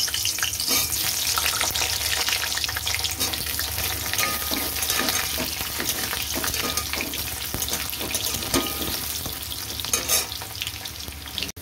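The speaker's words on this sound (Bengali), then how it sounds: "সর্ষের তেল বসিয়ে দিয়েছি, আমি এই তেলে আলু ছেড়ে দিচ্ছি।" Potatoes frying in mustard oil in a pan, a dense, steady sizzle with occasional stirring scrapes running close and loud for over ten seconds with no one talking.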